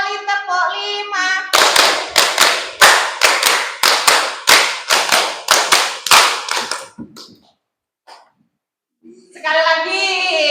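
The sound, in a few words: children clapping hands in rhythm, three rounds of five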